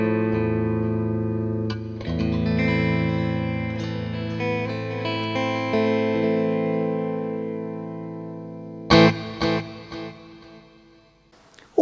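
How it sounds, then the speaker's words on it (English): Electric guitar played through a Boss TAE rig with reverb, sustained chords and notes ringing out with a lush tail, then a few sharp strummed stabs near the end, fairly loud and alone. "And you should immediately be able to hear the reverb."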